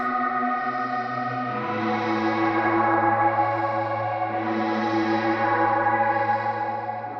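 Transit plugin run as a static effect on a sustained synth chord, giving a steady, dense, distorted and chorused texture with gentle swells and echoing movement that stays loud and even throughout, with no voices.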